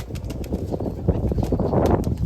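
Domestic racing pigeons in a loft make low, close cooing. Soft throaty coos overlap in an uneven rhythm, with faint rustling beneath.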